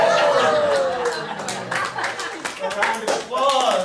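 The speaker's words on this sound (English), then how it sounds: "A round of applause." Applause from a magic show audience, a burst of clapping mixed with chatter and laughter that swells, dips briefly and rises again.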